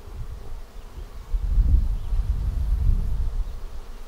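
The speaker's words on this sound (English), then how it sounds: "There are thousands of bees here." A swarm of thousands of honey bees, including drones, hums in a dense, steady low drone close by, swelling and easing without any talk.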